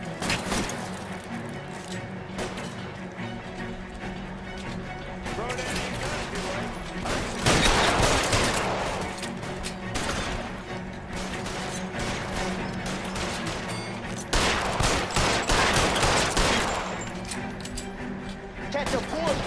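Gunfire in a shootout in the video game L.A. Noire, rapid volleys of shots crackling continuously with louder bursts, under background music and occasional voices.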